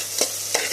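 Onion, cloves and curry leaves frying in hot oil for a mutton dish, giving two short stirring scrapes of a spoon against the pan over a steady soft sizzle, close and moderately loud with no talk.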